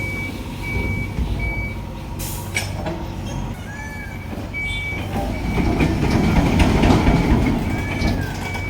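An Ashok Leyland truck reverses at a construction site while unloading sand into a foundation pit, its steady, evenly spaced reversing beeps sounding over a continuous engine rumble that swells toward the end.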